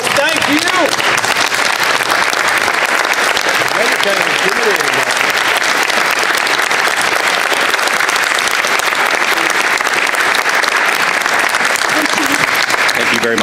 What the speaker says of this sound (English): give all of our first responders a wonderful round of applause